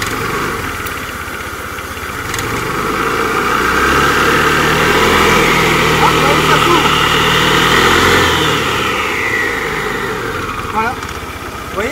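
A scooter engine on a maintenance stand revs up from idle as its centrifugal clutch engages the bell, a loud rising buzz that holds and then settles, with a person speaking over it.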